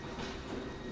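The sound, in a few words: steam train on early London Underground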